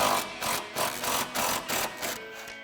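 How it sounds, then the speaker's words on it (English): A pneumatic impact wrench with a 21mm swivel socket hammers on a subframe mount bolt of a 2015-2025 Ford Mustang in a series of six or seven short, loud rattling bursts separated by brief pauses. "Same thing, impact, and we have a 21mm swivel socket."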